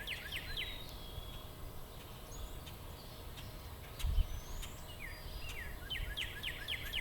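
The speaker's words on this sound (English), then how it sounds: "That's a cardinal." A cardinal sings outdoors, faint and somewhat distant. It gives repeated short, downward-slurred whistled notes that speed into a quick series near the end, over a quiet background with a soft thump midway.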